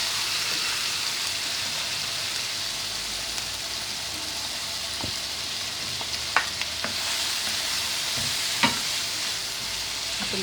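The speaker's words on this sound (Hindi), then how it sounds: "इसको हम अभी और भून लेंगे तेज़ आंच करके" Pieces of meat boti frying over high heat in a pan, a steady dense sizzle throughout with a few faint clinks of stirring, no voices.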